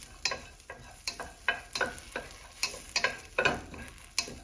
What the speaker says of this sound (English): I'm literally dry roasting the ginger, the cumin seeds,